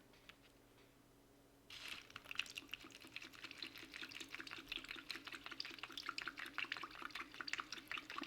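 Cold water pours steadily into a Norwegian Arctic field ration bag up to its fill line, starting abruptly after a quiet moment and continuing as a close, bubbling, gurgling stream.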